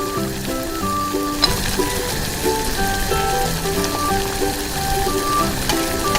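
A miniature chicken boils in a glass jar, giving a continuous bubbling, sizzling patter with small pops, steady and fairly close, with no voices.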